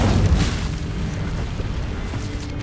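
An Incendio fire spell blast in Hogwarts Legacy, a deep rumbling boom that hits hard at the start and then rolls on as a sustained roar, loud and close with no voice over it.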